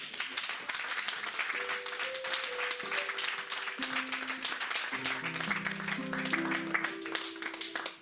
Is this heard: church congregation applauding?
yes